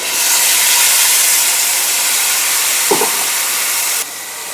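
Ground tomato paste tipped into a pan of frying onions for a Tamil fish curry gives a loud, steady sizzling hiss that runs for about four seconds, with a brief clatter near the end before the sizzle quiets slightly.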